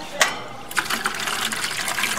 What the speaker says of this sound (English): And all that water's coming from the fish tank.